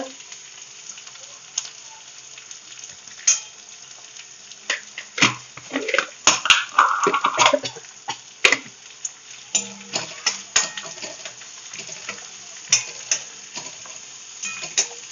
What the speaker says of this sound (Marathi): बघा अगदी मस्त फोडणी दिलेली आहे